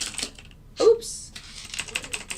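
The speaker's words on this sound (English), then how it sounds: "I was typing in the wrong spot." Close, crisp clicks of keys struck on a computer keyboard, coming in short irregular bursts with a brief pause, during a live algorithmic trading session at a desk.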